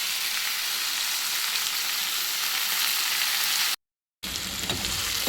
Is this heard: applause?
no